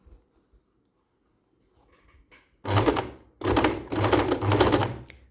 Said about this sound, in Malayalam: ഇനി ഇതിൻ്റെ മുകളിൽ കൂടെ തയ്ച്ചു പോവാം